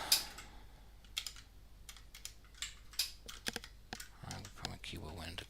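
Rapid typing on a computer keyboard during programming work, with irregular bursts of soft clicks and sharper key taps, close and fairly quiet.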